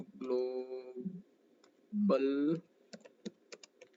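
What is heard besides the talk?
typing on a computer keyboard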